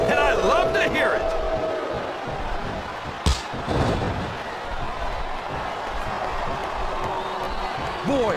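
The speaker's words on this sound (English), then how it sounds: "This capacity crowd is making their opinions known tonight." A capacity crowd roars steadily through a WrestleMania wrestling match, a dense continuous wall of cheering with a sharp slam-like thump partway through, while commentators talk over it.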